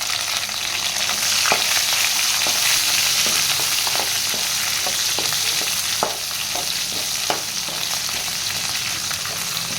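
Chopped onions sizzle in hot oil for a Tamil ennai kathirikai kulambu brinjal gravy, a steady close frying hiss broken by occasional clicks of a spoon stirring the pan.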